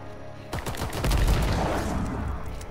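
Sustained rapid gunfire rattles loudly in Call of Duty: WWII as a player shoots down bombers, a dense fusillade of overlapping shots that grows heavier after the first half-second and continues to the end.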